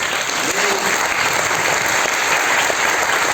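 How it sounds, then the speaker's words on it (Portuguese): A church congregation applauds during a Sunday evening service, steady dense clapping filling the room at an even, loud level throughout. "Vamos dar uma salva de palmas"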